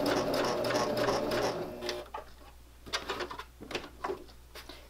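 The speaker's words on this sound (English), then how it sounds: "I'm going to go to my corner with my needle down, lift my presser foot, turn my fabric and keep going." Sewing machine stitching fabric for a pocket tissue cover, running steadily at close range for about two seconds, then stopping, followed by a few scattered clicks and handling noises as the fabric is turned.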